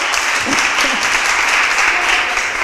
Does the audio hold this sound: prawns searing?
no